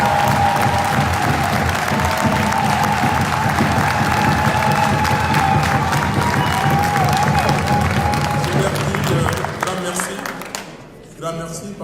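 Sustained crowd applause fills the room, dense and steady, fading out near the end as it dies down.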